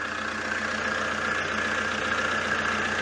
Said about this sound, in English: Listen to that beautiful engine.